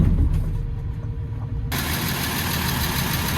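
Vehicle engine idling steadily after a service with filter information reset, a constant low mid-pitched hum and light vibration with no talking.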